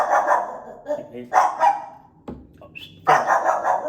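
A dog barks in a few sharp bursts, fairly close, with a person talking between and around the barks.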